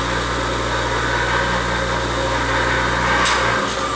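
A shop grinder in a welding shop, its wheel carrying aluminum, runs at full speed with a steady, continuous mechanical hum and whir. It holds nearly constant for the full four seconds, with no talking.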